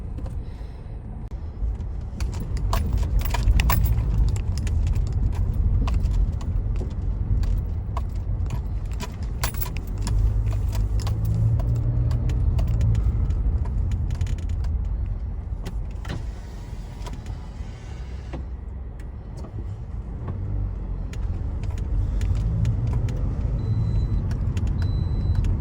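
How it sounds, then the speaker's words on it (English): A 2009 Toyota Matrix climbing a hill, its engine droning steadily from inside the cabin with low road rumble and occasional rattles and clicks throughout. "I'm gonna drive it right up the hill and right back down."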